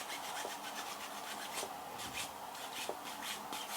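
Parts of a Tamiya Honda CB750F model kit are sanded down, giving a steady, soft, close rasping rub with faint rhythmic strokes and no talk.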